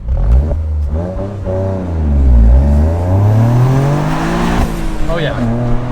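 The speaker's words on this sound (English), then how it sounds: "we'll do a quick little windows down pull" A wide-body Toyota GR accelerates hard with the windows down, its loud engine note climbing through the gears and heard from inside the cabin, with people talking over it.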